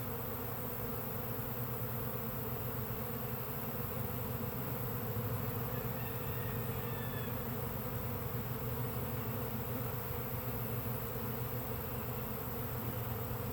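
A honeybee swarm hums continuously as it moves into a box, a dense, even drone at steady loudness throughout, with no voices.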